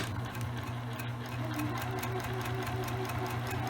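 A sewing machine runs steadily, back stitching fabric for a drawstring bag, with a continuous close mechanical hum and rapid needle rhythm throughout.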